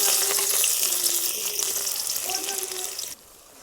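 Stinging nettle (kandali) roasts in a hot pan with a steady bright sizzle that fades sharply near the end, while a voice talks over it.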